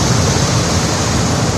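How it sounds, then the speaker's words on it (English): Water flows steadily through a newly fitted clear furnace AC condensate drain line, a constant loud hiss-like rush without pauses or voices. "drain is open and flowing"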